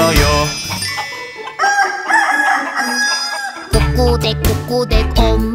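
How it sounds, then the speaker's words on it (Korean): Chicken clucking and crowing from a Korean children's song about a mother hen laying eggs, set over bouncy music with steady instruments that drop out briefly midway before resuming. "꼬꼬댁 엄마가 우리 집 달걀을 낳지요."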